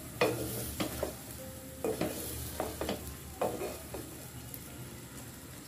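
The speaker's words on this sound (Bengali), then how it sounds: "টেস্ট মেকারটি দিয়ে পাস্তাগুলোর সাথে নেড়ে মিশিয়ে দেব" Spoon scraping and stirring boiled egg pasta with taste maker seasoning in a pan, about eight distinct rhythmic strokes with a soft sizzle underneath, close and moderately loud, no talking.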